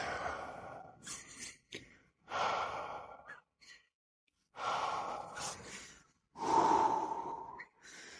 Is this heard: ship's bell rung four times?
no